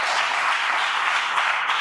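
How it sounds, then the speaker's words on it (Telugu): A church congregation claps together in praise, a dense, steady wash of many hands applauding at close range that holds evenly throughout, with no voices standing out. "చప్పట్లు కొట్టి ప్రభు నమస్కారం"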